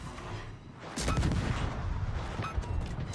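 Warship guns fire in World of Warships with heavy, rumbling booms that begin abruptly and stay loud, layered salvos rolling into each other.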